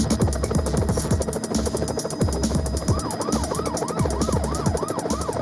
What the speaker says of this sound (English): Police cars are trying to get alongside to force him to stop.